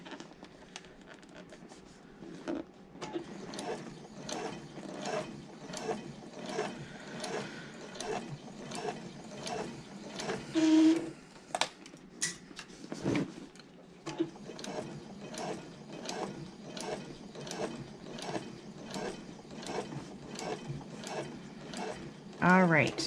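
A sewing machine topstitching a leather-style Hiraeth handbag, running in a steady, quiet mechanical rhythm of rapid needle strokes with a brief pause midway before resuming.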